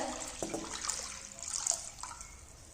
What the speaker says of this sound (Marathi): इथे मी एक तांब्या घेतलेले आहे ते आपण ह्याच्यामध्ये पाणी ओतून घ्यायचं